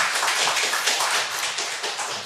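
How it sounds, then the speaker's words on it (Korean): A church congregation claps steadily throughout a Sunday service, dense and continuous, with no voices heard over the applause. "우리 환영할까요? 박수할까요?"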